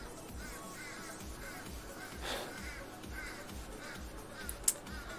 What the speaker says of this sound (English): the crows are having a bitch about something out there